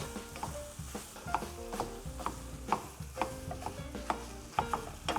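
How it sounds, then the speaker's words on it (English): Ground meat browns in a pan with carrots, celery, onions and garlic for Bolognese sauce, giving a close, lively sizzle with repeated clattering scrapes and knocks of a spoon stirring. "We're gonna brown it in the carrots, celery, onions, and garlic."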